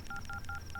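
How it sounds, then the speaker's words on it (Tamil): A phone number is keyed in on a telephone, a quick even run of about five touch-tone beeps played fairly close over a low background hum, with no voices. "என்னல யாருக்கு ஃபோன் பண்ணுறேன்னு பாக்கியால?"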